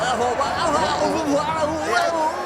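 Rowdy crowd inside an arena after a boxing knockout, a dense roar of chatter and shouting that stays loud and steady throughout, with no single voice standing out.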